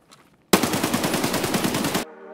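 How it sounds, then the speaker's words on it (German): A loud, rapid burst of automatic gunfire in Escape From Tarkov, about a second and a half of fast repeated shots that stop abruptly, leaving a quiet background hum. "Schuss."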